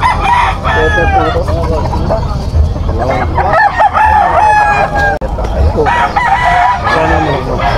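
Roosters crow over and over at a crowded chicken market in Malabon, loud and close with overlapping calls and clucking, while people talk in the background.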